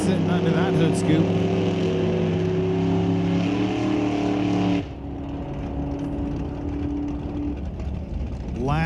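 Drag racing launch at a divisional qualifying event, with a 454 Chevrolet under a cowl induction hood against a 1985 hatchback Mustang with a 408: loud sustained engine roar that drops in pitch and weakens midway as the cars pull away, with speech over it.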